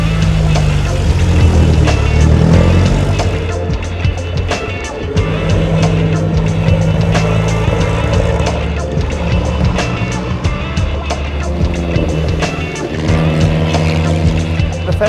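A 1929 Bentley Le Mans race car climbs a hill at a speed festival, its engine a loud, continuous rumble with rising and falling revs throughout, close to the listener.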